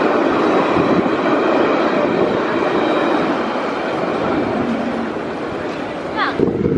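A tram passes on a street in Nice, France, with a steady rumbling rail roar and faint wheel clatter throughout, ending with a brief high squeal.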